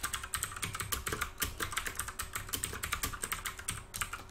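Steady, rapid typing on a computer keyboard, dense clicking keystrokes close to the microphone throughout, alone without talk.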